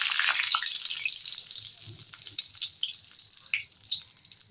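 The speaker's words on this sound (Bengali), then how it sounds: "3 চামচের মতো তেল দিয়ে দিয়েছি। দেবো তেজপাতা" Bay leaves dropped into about three spoonfuls of hot oil for a tilapia curry, a loud bright sizzle that gradually settles into a softer, crackling fry.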